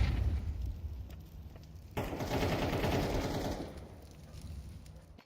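An AWP sniper rifle fires in a competitive video game match: one sudden, loud, broadband crack that rings on for a couple of seconds over a quieter game background.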